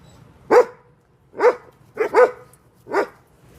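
A dog barks five times in a loose rhythm, close and loud, two of the barks coming as a quick double, with quiet pauses between them and no talking.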